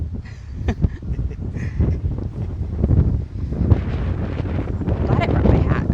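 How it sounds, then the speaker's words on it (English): Gusty wind buffets the microphone outdoors at a harbor in Maine, a loud rumbling roar that rises and falls, with voices and scattered background sounds mixed in. "I put a hat on because it's so windy outside"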